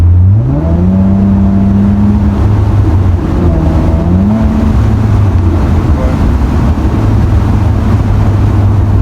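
Straight-piped exhaust on a 2019 Toyota Avalon, heard from inside as a loud, steady low drone, with the engine pitch rising and falling over a few throttle changes, no talking.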